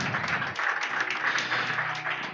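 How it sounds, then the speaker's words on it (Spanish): A church congregation applauds for the King during worship, a sustained, dense burst of many hands clapping in a reverberant room, with a faint low voice or music beneath. "Dale un fuerte aplauso al Rey."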